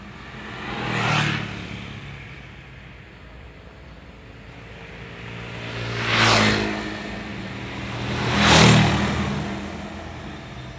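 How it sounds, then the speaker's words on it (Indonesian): Vehicles pass one after another in a queue at the Barito Bridge during repair work, three broadband whooshes swelling and fading at a moderate distance over steady low traffic rumble. "kita lihat ada kendaraan yang berbalik ke belakang"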